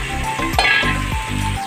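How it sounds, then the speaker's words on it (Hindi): Black chickpeas dropped into a pan of frying onions, Bihari style, set off a steady loud sizzle, with a few clinks and stirring scrapes of a spoon against the pot. "ये कलर ट्रांसलूसेंट होने लगा है, अब इसमें चने शामिल कर देंगे।"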